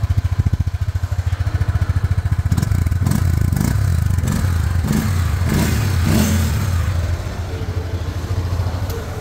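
A Honda CB 300F Twister motorcycle engine starts and runs up close with a loud, rapid pulsing thump. It rises into a busier, rougher roar with revving swells and clatter, then settles back to an even idle.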